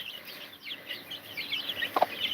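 A tiny chick gives a few soft, high-pitched clucks and cheeps, close by and fairly quiet, with one sharper call near the end.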